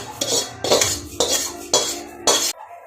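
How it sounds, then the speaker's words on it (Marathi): Puffed rice stirred in oil in a kadhai for murmure chivda, five rhythmic bursts of dry rustling and scraping as a spatula sweeps the pan, close and loud, then an abrupt stop. "असे मुरमुरे याच्यात टाकायचे आणि पुन्हा त्याच्यात परतून घ्यायचे"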